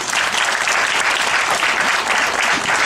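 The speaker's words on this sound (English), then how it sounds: "Give a big applause for him." A temple audience gives sustained applause for a participant at a spiritual discourse, loud, dense clapping from many hands that continues evenly without pause.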